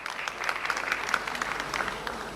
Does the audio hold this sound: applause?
yes